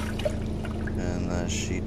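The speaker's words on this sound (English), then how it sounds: "Alright, let's flush it," A flushing urinal sends a steady rush of water at close range, continuous and fairly loud from start to finish, with no talking over it.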